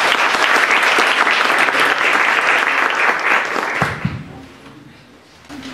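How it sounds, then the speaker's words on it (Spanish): Audience at a university book launch breaks into loud, dense applause that carries steadily for several seconds before tapering off into scattered claps and room noise. "Recibamos pues con un aplauso al señor Manuel."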